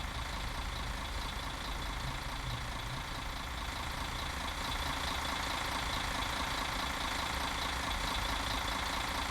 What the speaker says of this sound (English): I think they've even got the engine noise right.